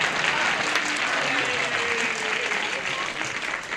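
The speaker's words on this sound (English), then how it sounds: "Why do you give that a half-hearted applause?" A game show studio audience gives loud, sustained applause that carries evenly throughout, with faint voices murmuring underneath the clapping.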